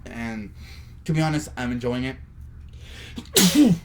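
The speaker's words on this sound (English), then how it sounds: "Yeah, that's the sneeze." A single sharp sneeze bursts out near the end, close and loud, right after someone speaks a short sentence.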